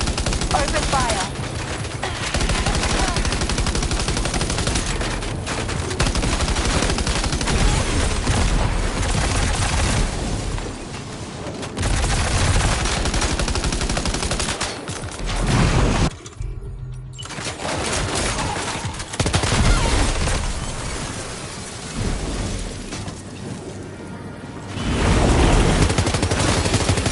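Heavy, sustained gunfire from the video game Death Stranding 2, dense automatic bursts and booming shots hammering almost without pause, broken by a brief lull, with voices speaking in between.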